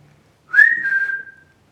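A person whistles once in a dark theatre cell, a single clear note about a second long that rises briefly and then holds steady, alone in near silence.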